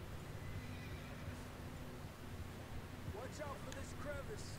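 A horse in Red Dead Redemption 2 moves over a constant wash of outdoor game ambience, with muffled hoofbeats and a couple of short whinnies near the end, all fairly faint.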